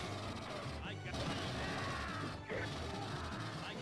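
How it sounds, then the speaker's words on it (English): A pulse rifle firing in Alien vs. Predator, a dense rattling stream of rapid shots with brief pauses between bursts, loud and close. "It sounds like a pulse rifle."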